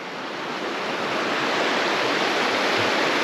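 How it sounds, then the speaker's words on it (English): Steady, loud rush of a mountain creek flowing downhill, a dense unbroken wash of water noise close to the listener with no voices. "the creek flowing down"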